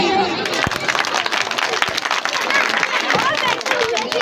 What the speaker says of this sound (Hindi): छोटे छोटे बच्चों के लिए ढेर सारी तालियां